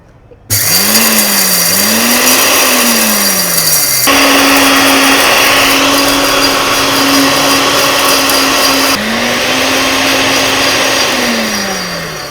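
An electric masala grinder machine starts up and runs with a loud, steady motor whine. Its pitch sweeps up and down and then holds, with abrupt shifts between speeds and no talking.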